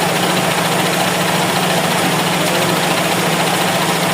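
A Toyota 4AFE car engine idles roughly and shakily, a loud, close, continuous rumble with an uneven throb and no letup.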